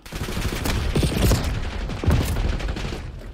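Shotgun and other gunfire in a Call of Duty match, a few close heavy shots over a dense, rumbling game mix with no voices.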